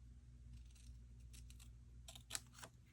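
Scissors snip through card stock while a little flag is trimmed for a handmade greeting card, a few quiet cuts clustered near the end with no talking.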